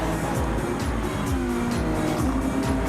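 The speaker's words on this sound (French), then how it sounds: "ça a tendance à glisser un peu." Car tires hiss and slip on a wet Tokyo expressway, with steady loud road noise and engine drone throughout and brief squealing tones rising over the rumble.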